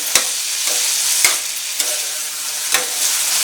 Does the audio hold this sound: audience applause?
no